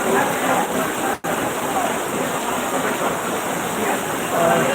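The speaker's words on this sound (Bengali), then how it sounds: "বৃষ্টি এখনো হচ্ছে" Outdoor rain falls in a steady, dense hiss that stays even throughout. It cuts out in one brief dropout near the start.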